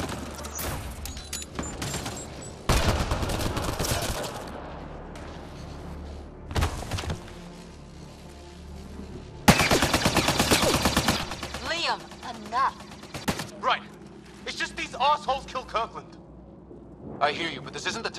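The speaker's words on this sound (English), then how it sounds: "he's got a minigun." Rapid bursts of heavy automatic gunfire from a minigun in the video game Mass Effect Andromeda, loud sustained volleys with brief pauses, mixed with other combat blasts and clattering impacts while voices talk over the action.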